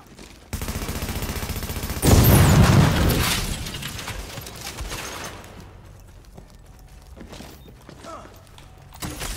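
Automatic gunfire in The Division, with a sudden dense burst of shots and a heavy boom that swells then fades into a lingering mechanical rumble and scattered shots.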